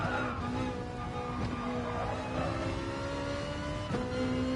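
Ferrari GT race car engine heard on board in a racing video game on the Nürburgring, a steady loud drone with gear-change pitch steps, constant and close with no talk.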